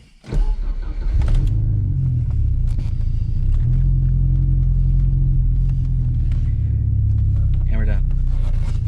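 A Porsche 944 Turbo track car fires up and pulls away, its engine settling into a loud, steady close-up rumble with a few rises in revs.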